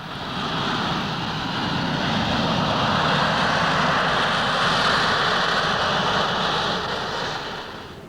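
A Harrier jump jet hovering, a steady loud roaring engine drone that swells in and holds evenly before tapering slightly at the end.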